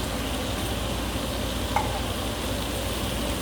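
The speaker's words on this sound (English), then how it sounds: "We're going to give that a little stir." A spoon stirs vegetables for chestnut soup in a pot, a steady close scraping and faint sizzle running throughout with one small clink midway.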